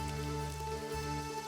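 Steady drizzle patters on surfaces during dreary, foggy weather, an even wash of rain noise throughout with a low hum underneath.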